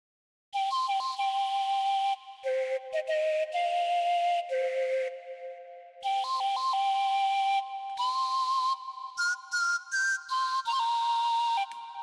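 A synthesizer whistle-flute lead plays a slow melody of sustained, gliding notes with brief gaps, clear and alone with no voices.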